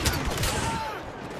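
Pulse cannon fire in Star Wars Battlefront, a short burst of loud, rapid blasts against a steady game backdrop.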